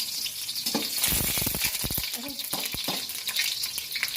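Garlic frying in hot, bubbling cooking oil for chicken liver adobo: a steady, close sizzle with crackling bursts while a voice briefly exclaims.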